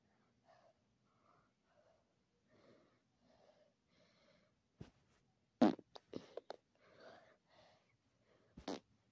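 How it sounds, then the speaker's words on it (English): Scattered farting sounds indoors in a house: several quiet, breathy puffs, then louder sharp bursts in a cluster and one more near the end, separated by near silence. "Keeps farting."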